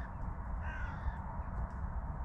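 Crows caw out in the countryside on a foggy December hunting outing, a faint distant call or two heard over a steady low rumble of wind and background noise.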